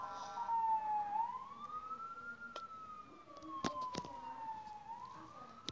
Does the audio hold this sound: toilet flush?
no